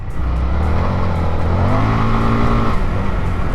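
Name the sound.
Indian FTR motorcycle riding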